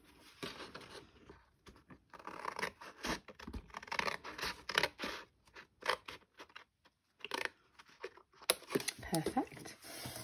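Scissors snipping through cardstock in a black and gold stamped papercraft project, a run of dry scratchy cuts and paper rustles spread over ten seconds, with talk mixed in.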